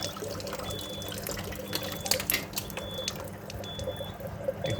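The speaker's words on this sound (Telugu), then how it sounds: "ఇక్కడ నుండి వాటర్ వస్తుంది, దీని కింద నుండి కూడా వస్తుంది వాటర్" Chlorinated water running steadily out of a cleaning device and trickling from beneath it, a continuous close splashing flow with faint dripping, no voices.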